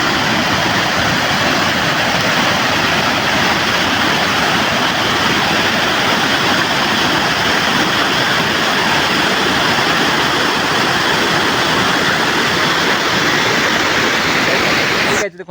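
Water pours over Sirsipal Dam in Keonjhar as a loud, steady roar of falling water that holds without a break from start to finish.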